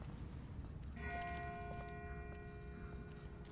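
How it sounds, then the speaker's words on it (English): A distant bell rings out in The Walking Dead video game, a sustained tonal toll with lingering overtones that begins about a second in and hangs faintly over a low, steady ambient rumble. "That's not the same bell as before. This one's further off."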